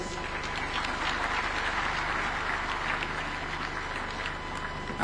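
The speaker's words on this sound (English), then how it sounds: "Another super applause for our host." A crowd claps in steady, dense applause throughout, moderately loud and sustained without a break, at the opening of the Devolution Conference in Homa Bay County, Kenya.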